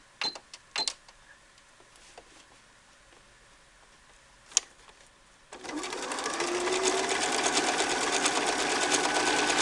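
A sewing machine zigzag stitches the top of a hood. A few isolated clicks and ticks are followed by a steady, close mechanical whirr that runs continuously to the end.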